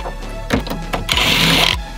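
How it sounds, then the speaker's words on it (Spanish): Power drill backing out bolts on the rear of a Jeep, a few short whirring bursts followed by a longer, louder spin, close by with no talk. "Es porque yo utilizo el taladro,"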